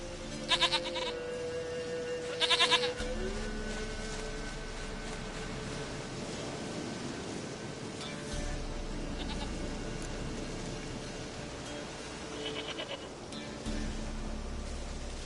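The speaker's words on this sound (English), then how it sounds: "Goat of mine, dearest, sweetest goat." Goat in The Witcher 3: Wild Hunt bleats in several short bursts, spread out over a quiet, steady game ambience.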